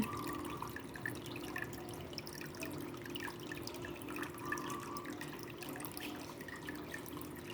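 Continuous trickling and splashing of flowing water, like a small cascade, steady and fairly close with scattered drips throughout.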